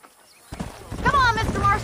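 Horses in the 2010 video game Red Dead Redemption, with clip-clop hoof sounds and a whinny rising midway after a silent start, while a voice talks over them.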